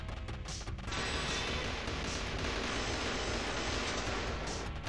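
The P-47 fighter plane's engine in the P-47 video game is a steady, dense roar that holds loud and unbroken throughout.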